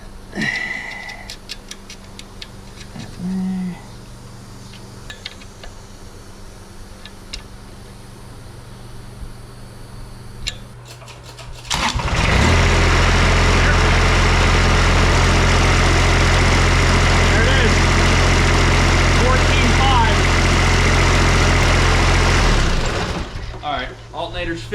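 A diesel Grasshopper 428D zero-turn mower with a newly fixed alternator cranks and starts partway through, then settles into a loud, steady idle close by after a quieter stretch of faint clicks and handling noise.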